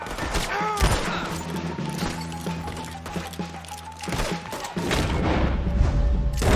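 Gunfire from a wagon shootout in Red Dead Redemption 2, sharp irregular shots and booming reports over a low rumbling bed, with a voice briefly shouting between the bursts.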